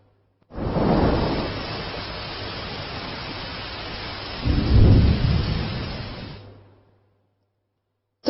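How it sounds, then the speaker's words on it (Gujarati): Heavy rain pours over Gandhinagar in a dense, steady hiss, with two deep rumbling surges rising out of the downpour before it fades away. "ગાંધીનગર શહેર તેમજ ગ્રામ્ય વિસ્તારમાં વરસાદ ખાબક્યો"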